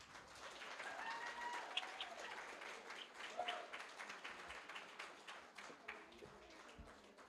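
The seated part of the audience at Amherst Island Radio's 20th anniversary celebration applauds: faint, scattered hand clapping from a modest crowd, heard at a distance, with a few murmured voices.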